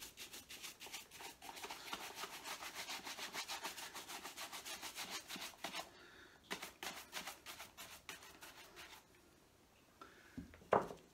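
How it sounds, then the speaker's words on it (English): A horsehair brush buffs leather brogues in rapid, even back-and-forth strokes, a soft close rasping that runs steadily at first, then slows into scattered, intermittent swipes. "have got another brush here, which is a horsehair brush. This gives it a slightly finer polish."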